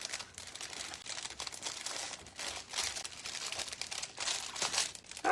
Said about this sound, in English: just tie it onto the little cellophane